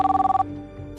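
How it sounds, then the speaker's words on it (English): Telephone bell rings in a staged audio-drama scene, a rapid trilling burst of about eight pulses lasting under half a second, loud and close, then cutting off to quiet room tone. "suddenly her phone rang."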